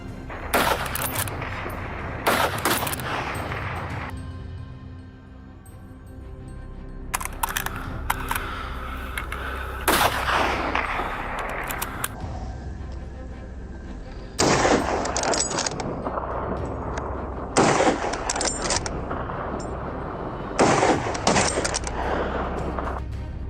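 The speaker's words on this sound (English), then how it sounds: "A deadly volley ends the thrilling pursuit." Gunfire volley during a wild boar hunt on a hillside at dusk: several sharp, loud broadband bursts in separate clusters, some in rapid succession, over a steady low outdoor rumble.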